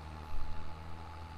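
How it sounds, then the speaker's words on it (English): An International Harvester tractor pulling a Cyclo planter through a big soybean field runs with a steady, low engine hum and a faint tonal whine, heard alone at moderate distance with a slight swell partway through. "Tractor sounds good."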